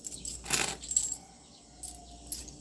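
At a sari-sari store, a pile of coins is dropped and sorted, producing bright clinking jangles in several bursts, loudest early and then lighter, with nobody talking.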